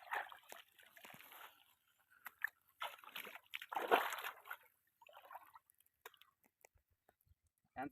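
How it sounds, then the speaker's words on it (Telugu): Water splashes and sloshes in intermittent bursts as someone washes while standing in a shallow, cold, gravel-bottomed pond. The close, uneven splashing comes in several clusters separated by short quiet gaps. "పద చెరువులోకి వెళ్ళి కడుక్కొని వద్దాం."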